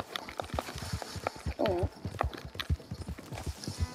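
Horse hooves clip-clop at a steady walking rhythm, close and clear, in the video game Red Dead Redemption 2, with a brief whinny partway through and voices talking over it.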